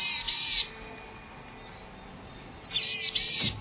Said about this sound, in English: It's the boreal chickadee.